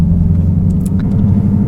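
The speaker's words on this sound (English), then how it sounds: "This 5-litre V8 power plant is just a work of art." A Lexus RC-F's 5-litre V8 runs with a steady, deep, loud rumble and even low throbbing, with no voices.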